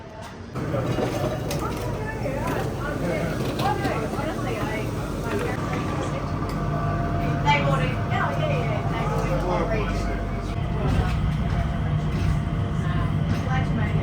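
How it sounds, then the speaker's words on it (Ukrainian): Singapore airport metro train carrying passengers between terminals, a steady rumble and whir of the moving car with squeals and clatter, heard under ongoing conversation throughout. "в Сінгапурі і зараз будемо їхати в такому поїзді метро до нашого терміналу."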